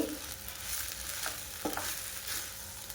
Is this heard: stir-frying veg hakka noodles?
yes